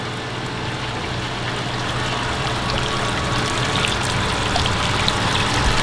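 Water from a brewing sparge arm sprays steadily into a boil kettle, a continuous close hiss and patter that holds even for the whole stretch with no talk.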